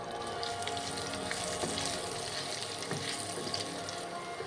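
Julienned ginger and chopped garlic fry in oil with peppercorns and cloves, giving a continuous gentle sizzle with scattered small crackles, close and steady with no talking.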